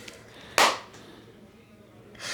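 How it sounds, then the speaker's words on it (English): A single sharp hand clap to open a whisky podcast, recorded up close in a pub room, followed by quiet and then the start of a second clap. "Clap us in."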